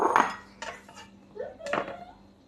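A knife chops string beans on a cutting board, giving three separate sharp knocks with clatter in between, close by and moderately loud.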